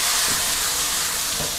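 Pork stir-fried over high heat in a pan, with a loud, dense, steady hiss of sizzling fat close up and no speech.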